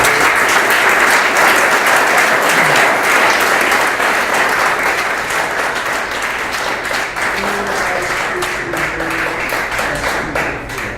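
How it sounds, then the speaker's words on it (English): Sustained audience applause fills a town board meeting room, steady and dense for the whole stretch with no talk over it, easing slightly toward the end. "we've clapped a long time there"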